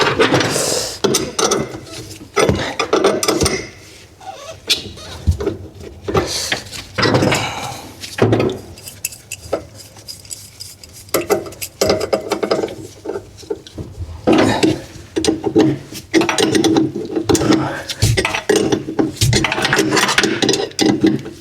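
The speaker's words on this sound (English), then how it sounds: "So let's get these bolts off the top." Bolts come off a Mini 1275 GT during a tear down, with repeated metallic clicks, ratcheting and clanking of tools against the car, irregular and close, mixed with handling noises.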